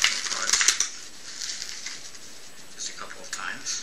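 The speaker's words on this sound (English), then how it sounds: "I'm just going to shuffle the cards" A deck of playing cards is shuffled by hand, a quick crisp riffle of fluttering, ticking card edges close by, followed by softer scattered clicks as the cards settle.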